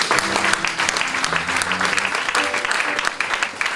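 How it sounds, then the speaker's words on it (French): A church congregation applauding the Lord, sustained dense clapping from many hands filling the room, with faint voices mixed underneath. "On peut acclamer le Seigneur."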